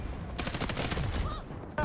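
Fast-firing gunfire from a close and mid-range weapon in the video game Delta Force, a rapid loud burst of shots aimed at enemies about 70 meters away, followed by a short pause and another sharp shot.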